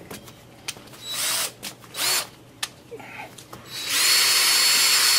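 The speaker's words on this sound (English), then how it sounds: "I'm gonna stir my stain up with this little stirring device I put on my drill." A power drill fitted with a paint stirrer mixing wood stain whirs in several short bursts with quiet gaps between, then runs continuously and loudly at the end, close by.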